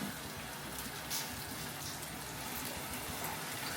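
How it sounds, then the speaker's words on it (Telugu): Ginger garlic paste fries in hot oil while prawn fry is being cooked, giving a steady, dense, rain-like sizzle that holds close and even throughout without any talk. "అల్లం వెల్లుల్లి పేస్ట్ వేసిన తర్వాత నీట్గా ఏగాలండి"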